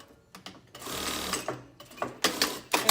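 A sewing machine stitches a pleated fabric face mask in short running bursts with brief pauses between them, the motor whirring up close and loud with no talking.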